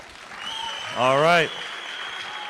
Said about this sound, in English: A little applause for them, please.